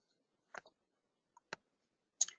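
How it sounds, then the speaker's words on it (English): A few separate keystrokes on a computer keyboard, sparse and close, with pauses between the short clicks in an otherwise quiet room. "I'll type in my value just like that."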